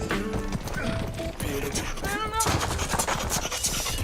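Horse hooves clip-clopping in a video game, a rhythmic trot of hoofbeats mixed with game music and clanking mechanisms, fairly close throughout.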